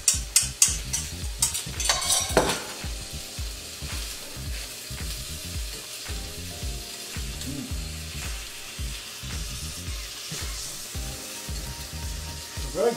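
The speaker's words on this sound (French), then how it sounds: "Et on continue la cuisson de la sauce." Meat pie sauce simmers and sizzles in a pan while a spoon stirs it, with a few sharp scraping knocks early on and then a steady bubbling frying hiss with a rhythmic stirring texture throughout.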